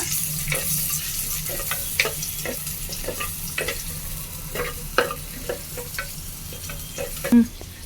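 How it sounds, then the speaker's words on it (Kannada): Finely chopped onion fries in a pan for a Mangalorean bangude fish curry, a steady close sizzle broken by repeated scraping stir strokes and a sharper clink near the end, with no one talking. "ಚಿಕ್ಕದಾಗಿ ಒಂದು ಈರುಳ್ಳಿನ ಕಟ್ ಮಾಡಿ ಇಟ್ಕೊಂಡಿದೆ, ಅದನ್ನು ಸೇರಿಸ್ಕೊಳ್ತಾ ಇದ್ದೀನಿ ನಾನು. ಚೂರು ಫ್ರೈ ಮಾಡೋಣ."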